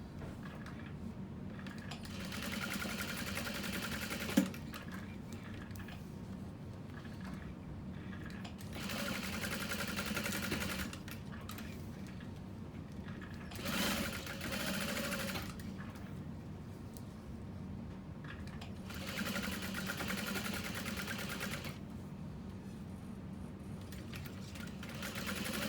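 A sewing machine top stitches along the sides of a bag at a long stitch length, running in steady bursts with brief pauses between passes and a sharp click partway through, close and alone with no talk.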